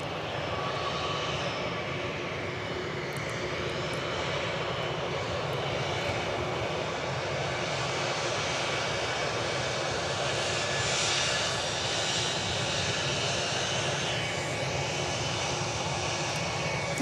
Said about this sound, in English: We've got another American Airlines Airbus A321 hightailing it in front of us.